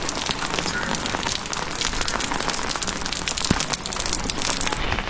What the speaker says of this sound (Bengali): এত মুষলধারে বৃষ্টি হচ্ছে এখানে।